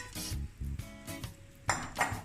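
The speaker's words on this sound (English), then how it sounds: "All I'm gonna do is just to put the pumpkin in the pot" A pumpkin is lowered into a pot of boiling water, giving a few close metallic clinks and clatters of the pot, with a louder knock near the end and no talk.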